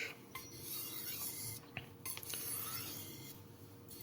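Carbon steel kitchen knife drawn in repeated strokes across a hard 150 grit silicon carbide abrasive stone, giving a steady close raspy grinding with brief pauses between strokes, no talking.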